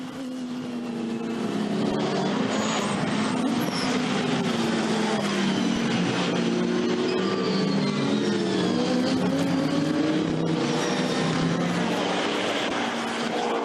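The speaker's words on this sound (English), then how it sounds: "Andrew Howard now at the wheel of the Beech Dean Aston Martin racing car, just going through on the 25." A Beechdean Aston Martin GT racing car drives past on the Zandvoort circuit during a 2013 British GT race, its loud engine droning continuously for over ten seconds as the pitch rises and falls through gear changes.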